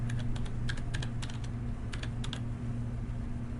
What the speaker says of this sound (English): I put in my username and then the same passcode that I would use for my on-demand account